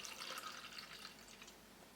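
Japanese rice wine pours into a bowl in a quiet, thin trickling stream that fades toward the end, soft and close.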